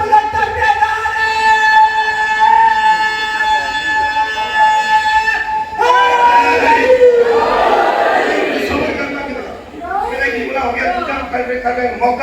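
A crowd at an Eid-e-Ghadeer religious gathering raises its hands and chants religious slogans, a loud swelling roar of many voices that rises after an amplified speaking voice and fades briefly before surging again.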